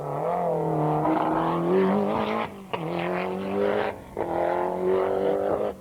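A four-wheel-drive rally car at the 1992 Donegal International Rally blasts past at high speed, its engine roaring loud and close with rising and falling revs and two brief dips between gear changes.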